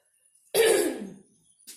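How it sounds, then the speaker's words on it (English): A single close, husky cough bursts out and trails off, followed by a faint short sound near the end. "I'm coughing a little bit because the weather keeps changing."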